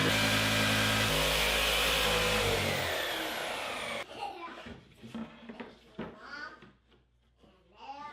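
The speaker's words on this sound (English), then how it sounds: "I took the jigsaw out and cut the final kerfs that were left in place to break most of the parts free" A jigsaw cuts through plywood with a loud, close, buzzing whine for about four seconds, then stops, leaving quieter workshop clatter and handling noises.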